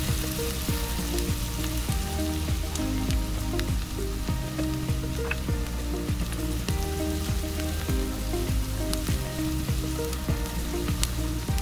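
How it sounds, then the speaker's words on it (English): White onions and crushed garlic sauté in a pan with a steady, dense sizzle and crackle, lightly stirred, continuous and close throughout. "Then put the crushed garlic, saute until golden brown."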